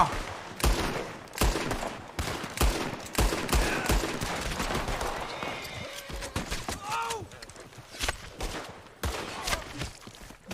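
Scattered gunshots crack out in a Red Dead roleplay game set in a tomato garden, arriving as sharp irregular bursts at close to middle distance, with a few voices and other game sounds in between.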